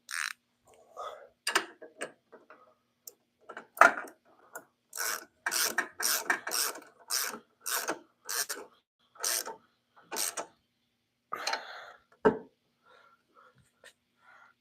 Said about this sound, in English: We'll wipe her down and we'll be done with it.